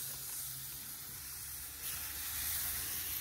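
Smash burger meat dropped onto a Big Green Egg grill at around 300 degrees, giving a steady, broad sizzling hiss that swells louder partway through as more patties land.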